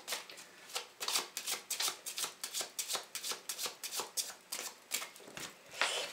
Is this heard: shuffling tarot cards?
yes